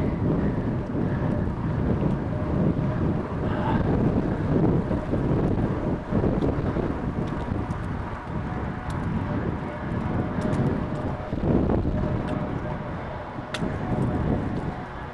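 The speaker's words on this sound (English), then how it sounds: "Those gusts are a little crazy." Strong wind gusts buffet the microphone on an autumn bike ride around town, a loud continuous roar that swells and eases throughout.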